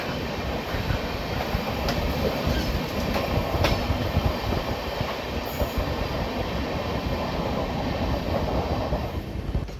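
Riding the Mumbai–Madgaon Jan Shatabdi Express near Dadar station, another train passes on the far track with a sustained roaring rumble, rhythmic wheel clatter and faint squeals, loud and continuous, with no talking.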